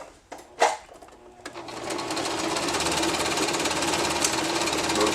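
A sewing machine runs steadily, stitching a buttonhole along the edge of a cheap homemade kayak cockpit cover, its fast mechanical chatter continuous after a few short clicks and thumps at the start.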